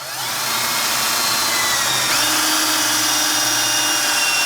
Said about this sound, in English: I pull the drill out so I get the wood shavings out of there